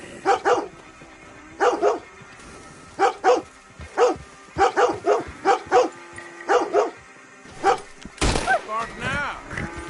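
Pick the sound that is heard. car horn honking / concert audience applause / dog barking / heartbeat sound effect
dog barking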